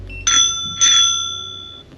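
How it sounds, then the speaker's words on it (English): Two bright metallic rings from the bicycle bell on an Apollo Pro V7 electric scooter, near and clear, the second ring following about half a second after the first and both tones lingering before fading out. "Then there's a bicycle bell."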